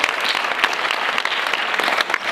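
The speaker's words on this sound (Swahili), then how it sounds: "Tumpigeni mzee makofi tena" An audience at a school event applauds an elder, sustained dense clapping from many hands, loud and close, steady for the whole stretch with no speech over it.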